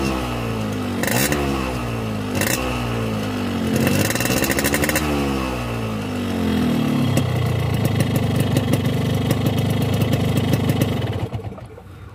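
A two-stroke motorcycle engine, run on Mesrania Super 2T oil, idles and warms up close by with a buzzy, uneven putter and a few short revs that rise and fall before settling back to idle.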